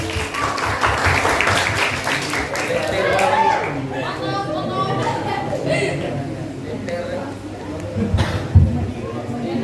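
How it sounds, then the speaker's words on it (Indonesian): Students and audience at a high school healthy-lifestyle seminar clapping in a short burst that fades into crowd chatter and murmuring, with voices talking throughout. "Beri tepuk tangannya dong."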